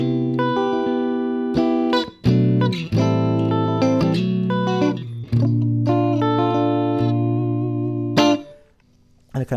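PRS SE Swamp Ash Special electric guitar in pickup position 2 with all three pickups, strummed and picked chords ringing out loud and alone for several seconds before fading to quiet.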